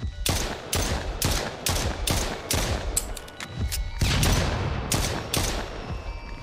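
Rapid gunfire from the horror video game Silly Billy, aimed at an enemy: a loud close burst of repeated sharp shots at a quick, steady rhythm, continuing throughout with no speech.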